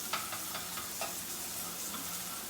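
A sauce with apple cider vinegar is stirred in a hot pan, a steady sizzle with soft scraping taps of the spoon at irregular intervals, fairly quiet and without talk.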